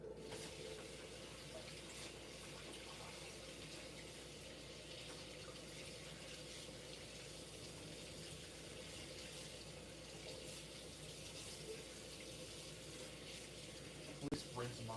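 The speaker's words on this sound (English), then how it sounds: "I'm gonna wash my hands here again." A kitchen tap runs steadily for hand washing, a faint continuous hiss of flowing water into a sink with a brief clatter near the end and no clear talk over it.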